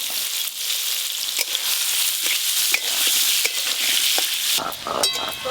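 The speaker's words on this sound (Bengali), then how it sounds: "প্রথমে আলুগুলো একটু ভাজবো।" Potatoes frying in oil in a pan give off a loud, continuous hissing sizzle with scattered crackles and pops, close up and uninterrupted, with no voices.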